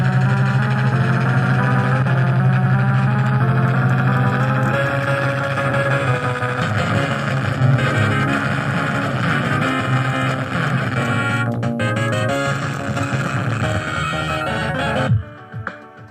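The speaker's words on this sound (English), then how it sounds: "This one's really, really bad. Very, very loud and distorted." Game sound from a 1943 arcade title on a faulty 60-in-1 arcade PCB, blaring loud and harshly distorted, with a continuous droning engine-like tone and overlapping effects, cutting out near the end.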